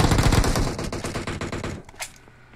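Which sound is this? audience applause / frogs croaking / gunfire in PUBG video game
gunfire in PUBG video game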